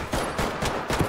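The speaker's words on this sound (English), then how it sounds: "I'm gonna flashbang, okay?" A flashbang grenade detonates in a first-person shooter raid, amid a dense burst of gunfire with repeated loud cracks and rapid reports packed into about a second.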